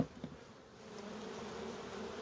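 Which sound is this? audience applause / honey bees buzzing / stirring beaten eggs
honey bees buzzing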